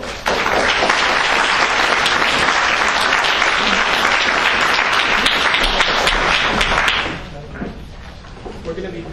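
A crowd at the 2015 Greenville mayoral debate claps loudly and continuously for the candidates Marion Blackburn and McLean Godley, the dense applause holding for about seven seconds before stopping abruptly into quieter room sound.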